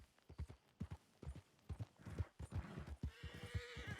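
Hooves of a riderless horse in Red Dead Redemption 2 clop in an uneven walking rhythm, with a whinny and snorts near the end. The sound is quiet and close.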